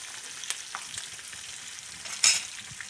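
Katla fish sizzles in hot oil as it is flipped in the pan: a soft, steady frying crackle with scattered pops, then a sharper sputtering burst as the piece turns over.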